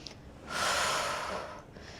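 A single long, breathy exhale runs close and fairly loud for about a second, from someone working through a leg push on a home reformer machine.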